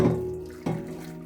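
Hot water running from a tap into a sink while preparing Haitian pork griot, a steady close splash that drops and shifts partway through, with no voices.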